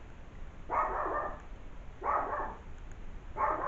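A dog barks outside in three separate bursts spaced about a second apart, each a rough cluster of barks at moderate distance over a quiet background.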